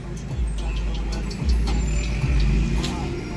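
Busy urban intersection traffic with cars and buses rumbling close by, a steady low engine roar with occasional surges as vehicles accelerate and brake, continuous throughout.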